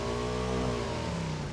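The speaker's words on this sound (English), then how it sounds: "there's a car somewhere nearby." A car engine in a video game runs steadily close by, a droning mid-pitched hum with a gentle shift in pitch over a short stretch, no talking.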